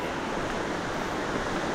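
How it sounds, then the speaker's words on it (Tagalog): Tinago Falls, a waterfall reached after many steps, heard as a steady, dense rushing roar of falling water that fills the scene without a break. "Ayan, marinig ko na yung tubig."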